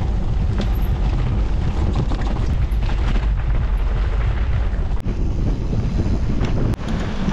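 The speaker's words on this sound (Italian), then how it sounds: "come sempre vento incredibile che sposta le biciclette." Strong, gusting wind batters the microphone during the Absa Cape Epic 2023 mountain bike race time trial at Oak Valley Estate, a loud, roaring rumble that never lets up.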